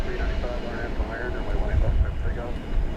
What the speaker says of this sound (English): Coming in now from Sacramento, I believe it is. Yes. An Airbus A321